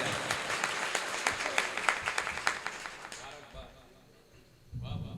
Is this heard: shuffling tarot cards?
no